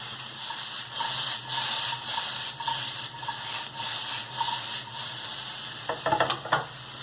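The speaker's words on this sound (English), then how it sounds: "Lastly, I'm going to add a tablespoon of garlic." A tablespoon of garlic sizzles and fries steadily in a pan for a vegetarian lasagna, a close, continuous crackle with a few sharper spatters and scrapes near the end; no one speaks.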